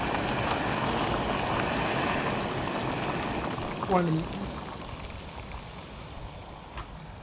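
Water boiling for a camping meal, a steady broad rushing hiss and bubble that holds for several seconds, with a brief sliding chirp midway.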